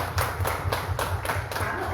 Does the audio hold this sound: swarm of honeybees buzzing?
no